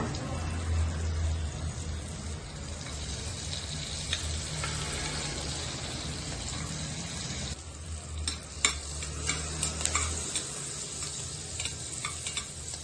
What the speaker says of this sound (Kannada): ಫಸ್ಟು ಬೆಣ್ಣೆ ಕರಗಿದ ಮೇಲೆ 1 ಸ್ಪೂನು ಬೆಳ್ಳುಳ್ಳಿ ಹಾಕೊಳ್ಳೋಣ